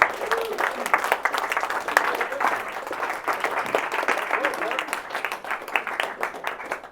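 Dense applause from an audience at a real estate investors' association meeting in Chattanooga, steady and sustained with many overlapping claps throughout, fairly close and loud.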